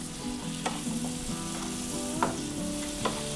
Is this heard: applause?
no